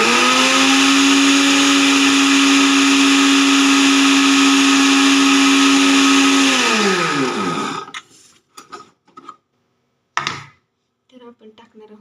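A kitchen mixer grinding a beet and paneer mixture: loud steady whirring motor for about seven seconds that winds down and stops, then a few short knocks and handling sounds.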